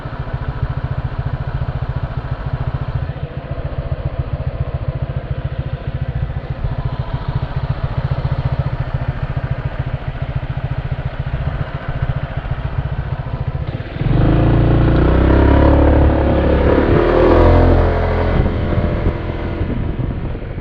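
A motorbike engine hums steadily while riding through Hueston Woods State Park, then swells louder and rougher partway through as throttle increases. Wind noise runs underneath.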